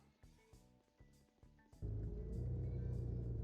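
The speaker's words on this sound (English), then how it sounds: "As you can see, it's just got a default car noise." Default engine noise for a tiny remote control car in a video game, starting as a rhythmic pulsing idle hum, then jumping to a loud, steady revving drone that holds to the end.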